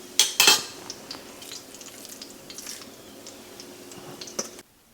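Pork chops fry in lard with a steady low sizzle, punctuated by a few sharp metallic clinks and clatters of utensils near the start and again toward the end.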